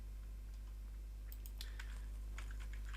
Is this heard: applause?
no